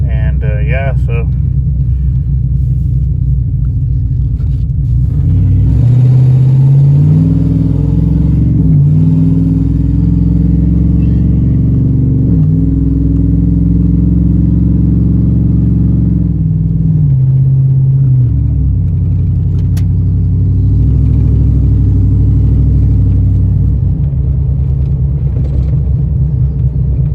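Car with a swapped-in GM 6L80 six-speed automatic transmission driving on the road, a steady low engine rumble with rising and falling revs as it shifts, heard close from inside the cabin throughout.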